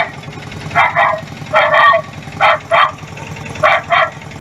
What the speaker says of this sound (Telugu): కుక్కలు వర్రినట్టు సప్పుడు మైకుల రికార్డింగ్ చేసి ఆ మైకును ఆటోకు కట్టుకొని తిరుగుతున్నాడు